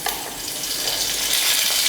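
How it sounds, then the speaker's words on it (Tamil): Mustard seeds and curry leaves crackling and sizzling in hot oil for a South Indian poriyal, a brief close hiss with fine popping throughout. "பொரியல் தாளிக்கிறதுக்கு எண்ணெய் காஞ்சதுமே கடுகு, கொஞ்சம் கருவேப்பிலை"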